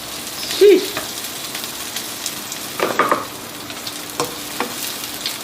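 Adobo frying in a pan while being stirred, a soft continuous sizzle with occasional scraping and clinks of the spoon against the pan.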